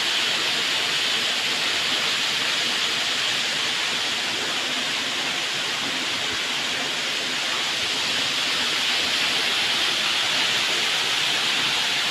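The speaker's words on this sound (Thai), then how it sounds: "สวยงามเสียงน้ำตกดังซ่า" A steady, broad rush of falling water from the Tham Bon waterfall in Ubon Ratchathani, Thailand, fills the scene without pause, a constant hissing roar heard at a moderate distance, with no voices.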